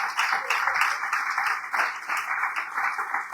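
A church congregation claps loudly and steadily in praise during a Spanish-language service, dense sustained applause with a voice faintly beneath it.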